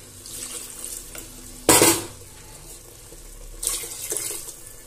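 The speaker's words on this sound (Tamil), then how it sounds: "இப்போ தேவையான அளவு தண்ணி சேர்த்துக்கலாம்" Water splashes into a pot of chicken salna in a short gush, then pours again more softly a couple of seconds later, with faint kitchen clatter in between.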